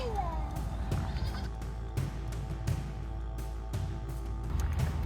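A large goat bleats among farm animals including a huge Clydesdale horse, the calls rising briefly over a steady low hum of background noise and faint voices at a livestock setting.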